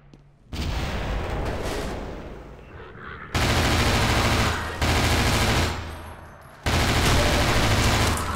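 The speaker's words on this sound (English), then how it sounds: "Fuck, he threw a grenade in here." A grenade explosion and gunfire in the Half-Life 2 video game: loud, dense bursts of rapid shots and booms fill most of the stretch in several heavy waves, broken by brief quieter gaps.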